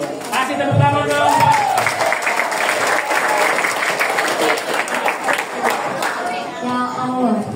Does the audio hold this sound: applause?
yes